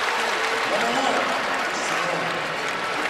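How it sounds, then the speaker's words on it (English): A basketball arena crowd in Atlanta applauds a player heading to the bench during a Kentucky versus St. John's game, steady clapping and crowd noise with a commentator talking over it. "Lowe gets another breather and a big round of applause from the folks here in Atlanta"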